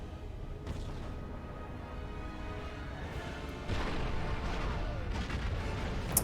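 Blaster fire in the Star Wars Episode III: Revenge of the Sith PS2 game, repeated sharp zaps and bursts over a dense, steady din of battle music and effects, growing louder midway.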